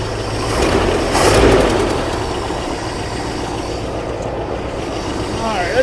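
Ford F600 truck engine idling after an antifreeze refill, a steady loud rumbling drone close by that lasts the whole clip.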